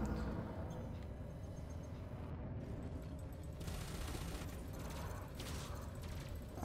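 Shaft grenade launcher fire from a spaceship in Elite: Dangerous, set during the Battle for Lugh, rolling as a dense, continuous rumble of blasts and bursts with a few brighter surges, heavy and loud throughout.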